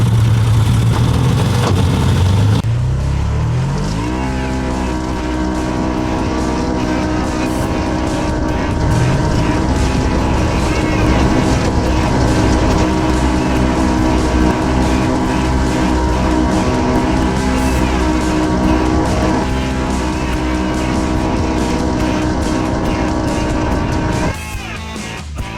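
Side-by-side UTV engine climbing a hill in four-wheel high, loud and close, with a rising rev at the start, then a steady droning pull that holds for over twenty seconds before easing off.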